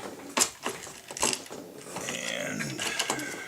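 Metal nut spun and threaded onto a bolt of an OS model airplane engine mount on a NexStar trainer, giving a few close, sharp ratcheting clicks and scrapes followed by steady small mechanical rasping.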